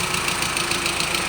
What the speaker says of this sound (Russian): Ну что, в принципе, глушим двигатель.